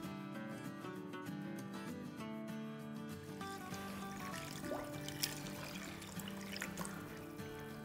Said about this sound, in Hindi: चार कप पानी डाल दिया और अब इसे पकने देंगे